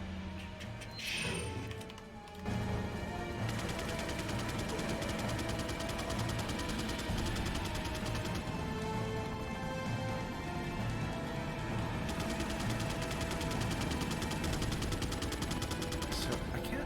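Sustained rapid automatic gunfire from a Gatling gun in Resident Evil 4, a dense, continuous rattling barrage running loud and unbroken for most of the stretch after a brief opening burst.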